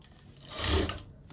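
A sewing machine runs briefly, stitching a blouse neckline along buckram, a short close whirring burst that rises and fades within about a second.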